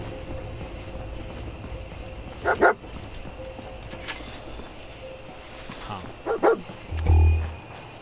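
Dogmeat, the dog companion in the Fallout 4 video game, gives two short bursts of barking over a steady game ambience, followed by a low thud.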